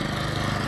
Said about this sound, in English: So this is a string trimmer,